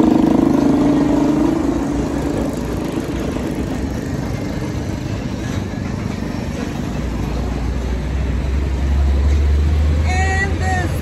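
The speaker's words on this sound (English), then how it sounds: "No, these cars are so loud." Loud cars pass on a street in Puerto Vallarta, a continuous close roar of engines and traffic rumble with rising engine tones near the end.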